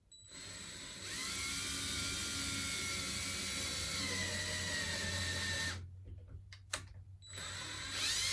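A power drill bores into a wooden extension piece for an SD9VE locomotive model, whining steadily and loudly for several seconds, then stopping, with short bursts of restarted drilling after the pause.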